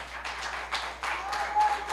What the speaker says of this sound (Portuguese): Aplauda o Senhor Jesus, irmãos.